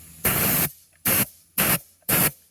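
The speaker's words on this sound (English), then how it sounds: "So the compressed air works best for this one" Four short hissing blasts of compressed air blowing dust out of the nooks of Dyson and Shark vacuum cleaner parts, the first about half a second long and the rest shorter, evenly spaced and loud and close.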